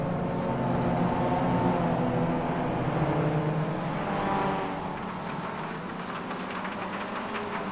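Several Mazda MX-5 race cars in the iRacing game circle the Mid-Ohio track, a steady blend of engine drone that stays loud and continuous before easing slightly in the second half, with no talk over it.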